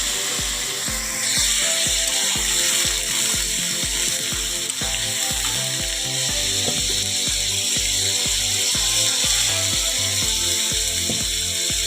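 Ground spice paste frying in hot oil with bay leaf and black cumin, for a prawn curry: a loud, steady sizzle throughout, with a regular thumping beat running underneath.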